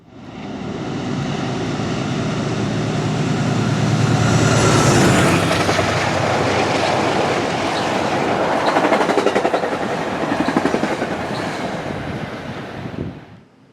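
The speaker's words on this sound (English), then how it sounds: "Metro North kept the wait lively, sending 2 Heritage units through in quick succession" Metro North Heritage-unit passenger trains pass close and loud in quick succession on the Hudson Line, a sustained roar with rhythmic clickety-clack of wheels over rail joints.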